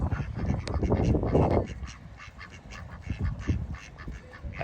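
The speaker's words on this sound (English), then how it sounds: "all of these ducks hanging out here by the barn, waiting for food" Ducks crowd by a barn waiting for food, loud nearby quacks overlapping in a busy chorus that thins into scattered calls.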